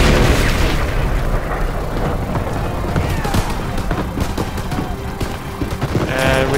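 Airstrike explosions in Call of Duty WW2 rumble in heavy, continuous booms and bursts against enemy Panzer tanks, a loud battle din lasting several seconds with a voice talking over it.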